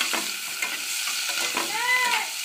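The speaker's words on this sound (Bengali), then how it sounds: "গ্যাসের ফ্লেমটা বন্ধুরা পেঁয়াজ ভাজা হয়ে গেছে" Chopped raw onion fries in oil in a pan, giving a close, continuous sizzle broken by stirring scrapes and a few short squeaky utensil sounds, with no talking.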